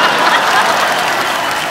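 Studio audience at a televised Hindi comedy talk show breaks into steady, dense applause, a continuous close wash of many clapping hands with no talking over it.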